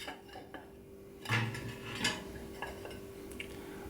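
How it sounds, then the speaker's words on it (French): A plate set over a ramekin of gluten-free chocolate fondant and flipped to unmould it: a soft ceramic clunk and a brief clatter of dishware, then a second lighter knock, close by in a quiet kitchen. "Allez, on démoule notre deuxième cocotte. Alors je mets une assiette par-dessus et je retourne."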